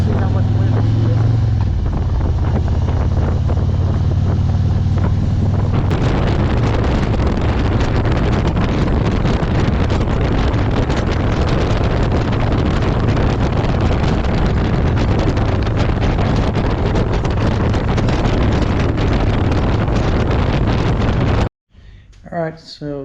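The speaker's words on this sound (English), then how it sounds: "we'll be getting up to highway speeds here shortly once I get off these back roads, so we'll see how much wind we get" Heavy, roaring wind buffets the microphone on a 2020 Harley-Davidson Street Glide fitted with Yaffe bars and a Freedom Shield at highway speed, a loud continuous rush over low engine drone that cuts off abruptly near the end.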